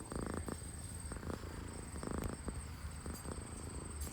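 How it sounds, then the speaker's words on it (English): A cat purring close to a phone held up to it, a soft continuous rumble in steady rhythmic pulses with a faint background hum, no talking. "I'm purposely holding the phone up to my cat because she is purring like crazy"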